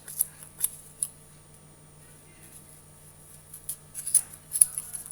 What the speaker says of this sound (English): you're going to pry those scissors inside until you can feel the cardboard, parents. And then you're just going to cut along the edge.